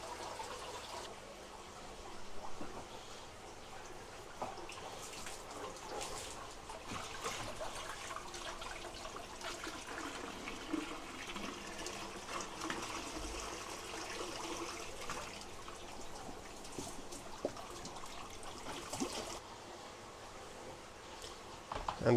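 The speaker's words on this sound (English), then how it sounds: "the last thing we'll do now before we start waiting for the mushrooms is to water the logs a bit." Water is poured over mushroom logs in an aquaponics setup, a faint, steady trickle and splash that continues throughout with no talk.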